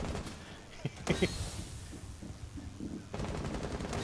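Saiga shotgun gunfire in Rainbow Six Siege on a Favela map, with a few sharp shots over a busy, noisy game mix.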